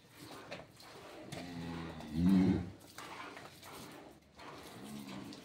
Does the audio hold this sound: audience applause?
no